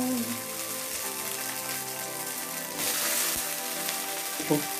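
Cut idli pieces frying in hot oil in a pan, a steady, dense sizzle that swells briefly, close up and continuous, with a faint tonal hum underneath.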